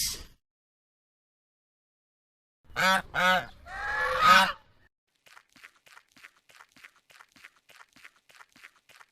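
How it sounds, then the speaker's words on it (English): A domestic goose gives three loud, close honks in quick succession, the last one longer and rougher, then soft, light footsteps patter through the quiet. "goose,"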